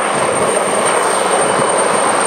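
A rescue helicopter holds a steady hover above a boat, its engine and rotor making a loud, constant broadband roar with no breaks and nobody talking.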